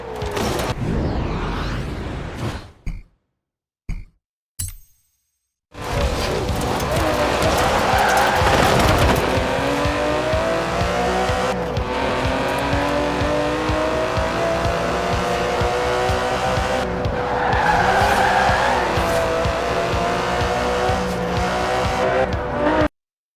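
A GT race car in Forza Horizon 4 revs hard and screams through the gears with tire squeal, loud and close, after a few clipped bursts at the start; a steady engine drone and repeated rising revs carry on throughout.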